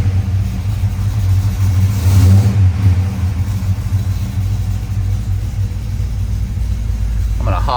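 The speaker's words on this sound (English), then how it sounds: "What a great sound this engine puts out." A 1971 Chevrolet Monte Carlo V8 engine, started cold, rumbles with a deep, steady idle and swells briefly as it revs, loud and close throughout.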